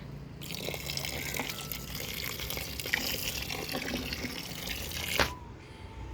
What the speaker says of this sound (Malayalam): ഒരു കപ്പിന് പത്ത് പത്തിരട്ടി വെള്ളം ചേർത്ത് നേർപ്പിച്ചാണ് ഞാനിതിന് ഒഴിപ്പിച്ചു കൊടുക്കാൻ പോകുന്നത്